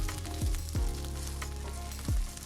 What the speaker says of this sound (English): after we get them in, we gonna brown them